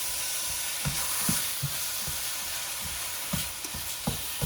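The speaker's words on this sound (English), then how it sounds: "I just wanna get some of those onions mixed into that meat" Ground meat and onions for tacos sizzle steadily in a pan, with intermittent scraping and knocking of a utensil stirring and chopping through the mixture, close and fairly loud.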